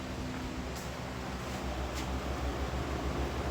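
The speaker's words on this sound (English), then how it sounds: "today I have two fans going" Two electric fans running in a closed garage on a hot day give a steady, even whoosh of air noise with a low hum beneath it, unbroken throughout and with no voices.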